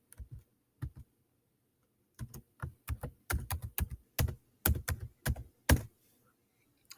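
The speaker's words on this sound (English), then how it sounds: "and then I'm going to type in New Brunswick." Quick bursts of keystrokes on a computer keyboard, tapped out in short irregular clusters with brief pauses, close and fairly quiet in an otherwise silent room.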